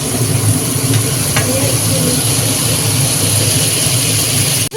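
Katla fish fries in oil, a loud, steady, close sizzle that holds without pause and then cuts off abruptly at the end.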